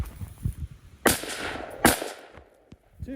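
Two sharp, loud gunshots from a Sig MCX Spear LT 11.5 rifle fitted with a conversion kit, spaced almost a second apart at an outdoor range, each ringing out with a short echoing tail and faint chatter in the background.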